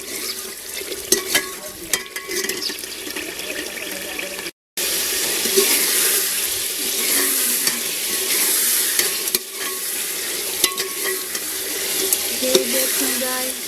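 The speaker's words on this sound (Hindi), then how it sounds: "अब हम इसको भूनेंगे अच्छी तरह से।" Quail (batair) sizzle and fry in a pan while being stirred, a steady crackling hiss with scraping and stirring sounds throughout and a brief dropout partway.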